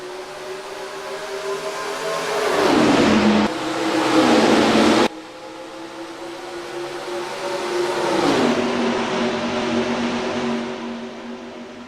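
Race cars in NASCAR Racing 2003 at Atlanta roar past in a loud, continuous engine drone, with several pitch sweeps as cars pass by close and shifts in the pack's tone partway through.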